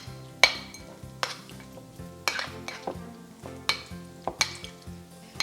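Egg yolk filling mixed with sweet relish and mayo in a bowl for deviled eggs, a series of regular clinking and scraping strokes of a utensil against the dish, close and fairly quiet, no speech.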